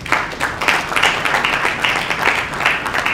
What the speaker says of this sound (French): Mesdames et messieurs, applaudissons s'il vous plaît.